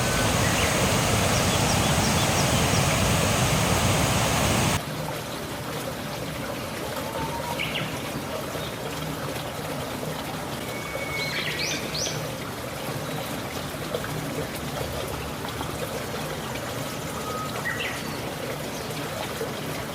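Tha Khian Thong waterfall in Thailand gives a steady rushing, trickling water sound throughout, louder in the first few seconds, with a few brief bird calls over it in the distance.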